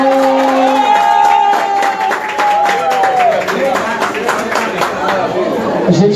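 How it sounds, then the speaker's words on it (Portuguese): Audience at a live samba music event clapping and cheering, a loud continuous burst of applause with shouts and crowd chatter throughout. "Salva de palmas pra terça esquerda pra mim"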